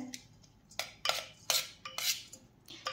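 A spoon works fine boondi into warm sugar syrup for motichoor ladoo, making sharp metallic clinks against the pan in a loose, uneven rhythm.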